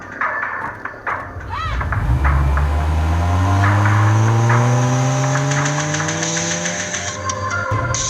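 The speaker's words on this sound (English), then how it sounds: "Hurry up! Start the truck!" A truck engine cranks, catches and revs up, then pulls away with a rising, steadily climbing drone under overlapping shouted voices, loud and close throughout.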